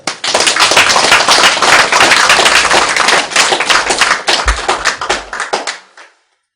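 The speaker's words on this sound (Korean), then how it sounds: "박수나 쳐라." Dense, loud applause from an audience at a Buddhist Diamond Sutra lecture, sustained for several seconds and then thinning into scattered claps before stopping. No one speaks.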